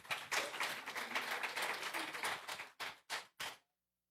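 Applause from a church congregation at a live Shabbat service, a dense wash of many hands clapping that thins out and ends in a few last separate bursts before silence.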